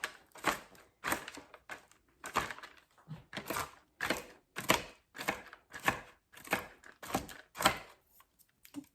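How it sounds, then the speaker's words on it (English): Nuts roughly chopped on a board for banana nut bread, a series of about a dozen sharp knife thuds in a loose, fairly even rhythm, close and distinct with short quiet gaps between strikes. "I'm just going to give them a rough chop"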